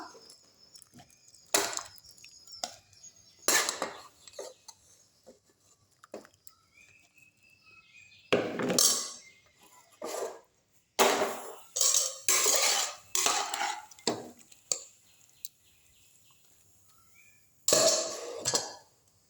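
Cooked amaranth greens being mashed in a clay pot, heard as a series of scraping, knocking strokes in separate bursts with quiet gaps between, close and fairly soft, with no talk.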